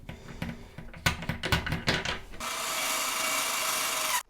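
Plastic bolts on a toilet seat hinge are tightened by hand, giving a run of quick ratcheting, rubbing clicks, then a steady rushing scrape for about two seconds that stops abruptly, close and fairly quiet.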